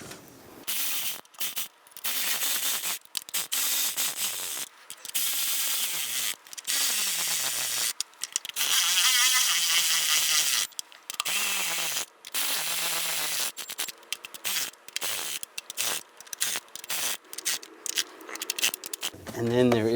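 Screws being snugged down by hand on knock sensors of a 3.6L V6 engine in a 2011-2018 Ram 1500, giving repeated short ratcheting and scraping bursts separated by brief pauses, close and fairly loud.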